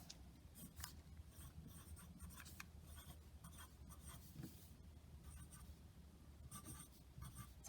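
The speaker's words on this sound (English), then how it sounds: "And now I'm going to write, I can see." A pen or pencil writes a sentence on paper, a steady close scratching with quick strokes and brief pauses, faint and continuous with no talking.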